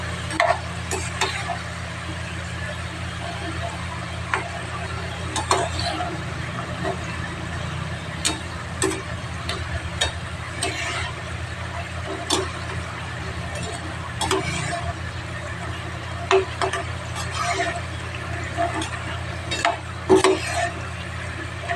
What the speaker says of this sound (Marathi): छान फुललेले आहेत ब्राउनिश कलर येईपर्यंत फ्राय करून घ्यायचे चांगले